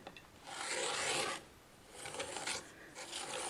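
Rotary cutter or scissors trimming excess quilt fabric to square up a corner of a block, heard as close, steady rasping cuts in three bursts separated by short pauses, with no talking.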